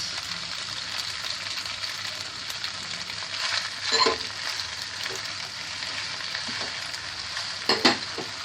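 Pasta ingredients with tomato sauce sizzle steadily in hot oil, frying close and constant, with a few scraping stirs and clacks of a utensil against the pan.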